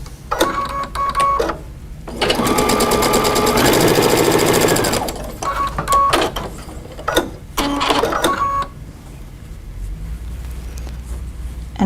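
A sewing machine stitches quarter-inch seams joining rows of fabric for vintage Christmas ornaments. It runs in one long, loud, steady burst and then several shorter starts and stops, each with rapid mechanical chatter, close up and with no talking.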